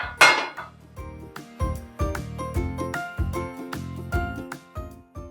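Several metallic clanks and clinks as a frying pan is set on a gas stove, close and fairly loud, in an uneven series with short ringing tails.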